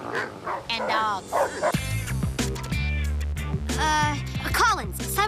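Dogs in an animated scene bark, yip and whimper in quick bursts, mixed with voices talking over them.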